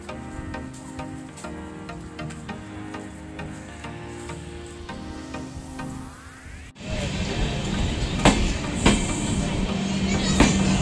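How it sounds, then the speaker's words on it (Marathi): An express train arriving at Sindhudurg station rumbles and clatters with metallic squeals and hissing; the sound grows louder and busier partway through as it pulls in close. "सिंधुदुर्गला आली आहे ट्रेन"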